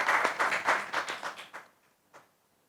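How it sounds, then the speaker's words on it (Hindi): Applause from the audience at a song launch event: a burst of many hands clapping, loud at first, then thinning and fading away, with one last lone clap before silence. "उनके लिए ताली बजा दीजिए"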